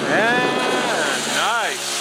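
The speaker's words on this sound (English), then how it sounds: "He'll probably get the bike up to third gear." A Venom X22 125cc four-stroke motorcycle revs and whines past in rising and falling engine pitch, shifting up through gears, heard over wind noise with someone talking throughout.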